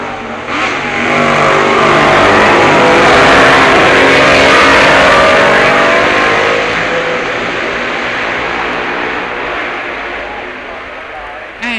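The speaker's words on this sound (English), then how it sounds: "he takes Braddon Bridge with Darville's Norton" A Norton racing motorcycle at Braddon Bridge during the 1966 Isle of Man TT, a loud engine roar swelling as it approaches and passes close by, holding for several seconds before fading slightly, with a commentator talking over it.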